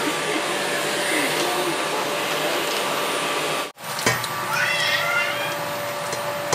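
A household vacuum cleaner roars steadily and close, cutting out briefly midway before starting up again, with a cat meowing faintly and a few indistinct voices behind the motor.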